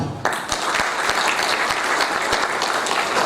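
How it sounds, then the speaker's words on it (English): An audience at a business summit gives a sustained round of applause for the release of a roadmap, a dense, even wash of many hands clapping from across the hall with a few sharper claps close by. "let's have a huge round of applause for the release of the roadmap"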